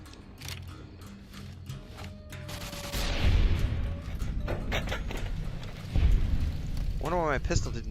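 Pistol shots in Fallout: New Vegas, a few sharp cracks against a busy game mix of rumbling blasts and music, with someone talking over it.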